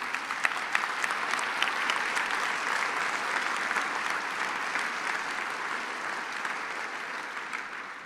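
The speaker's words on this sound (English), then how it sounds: "Round of applause, please." Sustained audience applause at a charity gala benefiting NF research fills the room evenly, a dense steady wash of many hands clapping at moderate level throughout.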